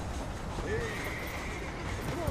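A horse gives a drawn-out whinny in Red Dead Redemption over continuous game ambience and faint hoof sounds. Quiet talk runs underneath.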